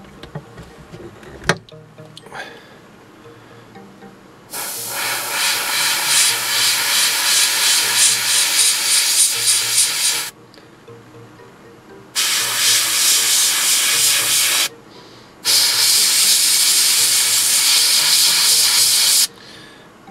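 Tamiya XF24 dark grey paint sprayed through an airbrush onto a model in three sustained hissing bursts of several seconds each, close and steady, separated by short pauses.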